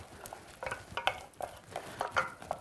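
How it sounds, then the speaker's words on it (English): Milk being stirred a little at a time into a sauce in a pan: soft irregular scraping and wet swishing strokes of a utensil against the pan, quiet and close, with no talking. "just take the milk, and then just stir the milk in a little at a time"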